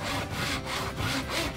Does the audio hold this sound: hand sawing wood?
yes